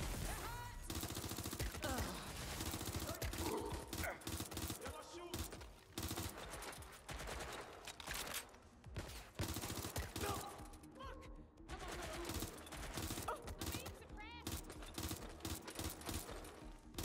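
Rapid gunfire bursts from a Watch Dogs: Legion firefight, loud and dense, with a music-like bed and game effects churning throughout, bursts recurring across the whole stretch without pause.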